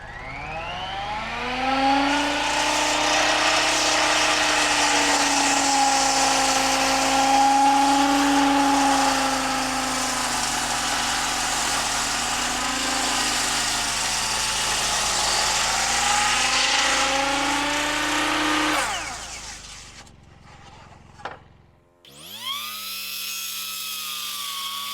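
A power drill pre-drills holes through angle iron brackets for a loft floor beam in an off-grid workshop, running loud and steady for about twenty seconds with a whining, shifting pitch before winding down, then a brief burst.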